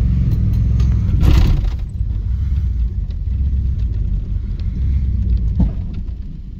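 A 1990 Dodge Ramcharger 2WD engine runs with a loud, low rumble close by, swelling in one brief rev before settling back to a steady, rough drone.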